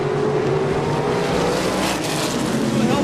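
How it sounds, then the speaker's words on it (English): Sprint race cars roaring at full throttle down the back straightaway at Berlin Raceway, a dense, loud, continuous engine drone with steady pitch and no talk. "Holding him off as they race down the back straightaway."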